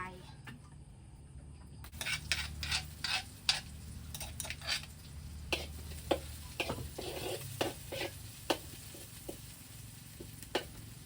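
Garlic fries in a pan with a steady sizzle while a utensil scrapes and taps against the metal in irregular stirring strokes, starting after a short quiet moment, with faint talk at times.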